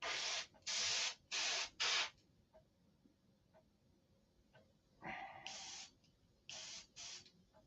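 An airbrush fitted with a fine detailing brush sprays paint in short hissing bursts, four quick ones in a row, a pause with faint clicks, then several more bursts, close and fairly quiet.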